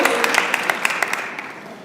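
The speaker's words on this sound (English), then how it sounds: "give her a round of applause" An audience claps at a mayoral debate in East St. Louis, a short burst of dense applause with sharp individual claps that fades away over about two seconds.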